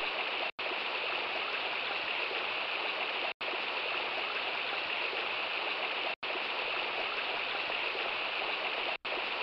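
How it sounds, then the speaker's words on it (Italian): A waterfall in an underground lagoon from the video game Hollywood Monsters rushes with a steady, even hiss of falling water, briefly dropping out to silence three times. "laguna sotterranea con una cascata."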